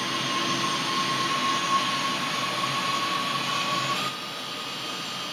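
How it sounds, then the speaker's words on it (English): An F-16 jet engine spools up in a flight simulator game as a steady, loud whining roar with a sustained high tone, dropping slightly in level near the end. "you can kind of hear how the engine is starting up there"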